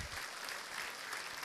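A church congregation applauds at a worship service, a steady wash of many hands clapping, fairly faint and distant, holding level throughout without voices on top.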